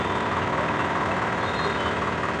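A tractor engine runs at a weekly tractor market in Talwandi Sabo, giving a steady, close, droning rumble with an even level and no breaks.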